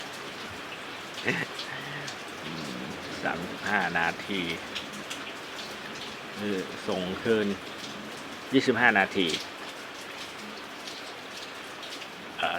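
Steady rain patters throughout as a constant hiss, while someone speaks intermittently over it.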